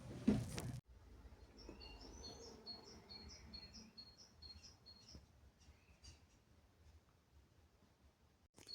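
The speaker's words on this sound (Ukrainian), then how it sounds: "пташки співають." Small birds chirp and twitter faintly in a quiet outdoor setting, a series of short high calls, after a brief loud rustle at the start.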